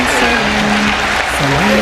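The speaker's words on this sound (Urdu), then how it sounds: "ڈاکٹر ذاکر نائک صاحب کا بھرپور تالیوں میں استقبال کیجیے۔" Dense audience applause welcoming Dr Zakir Naik at a gathering at the Governor House in Pakistan, loud and continuous with a steady hum running beneath it.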